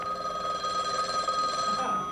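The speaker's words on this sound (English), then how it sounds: "Well, that's the phone. It is ringing." A studio telephone on a 1978 late-night comedy talk show rings with a steady, continuous electric bell tone, close and fairly loud throughout.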